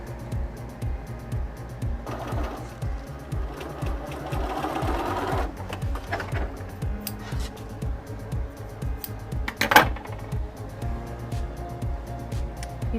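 Sewing machine stitching darts on a fabric puppy costume, rapid rhythmic mechanical clatter in bursts that speed up and pause, close and clear, with a brief sharp knock near the end.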